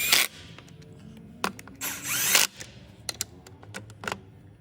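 A power tool snugs down bolts in a crisscross pattern while a 2019 Hyundai Veloster is being reassembled. Short whirring bursts come one after another, with clicks and clanks between them, close and without talk.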